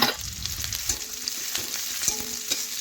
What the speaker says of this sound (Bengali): এখন বেশ কিছুক্ষণ ধরে পেঁয়াজটা নাড়াচাড়া করে একটু লাল হয়ে যাওয়া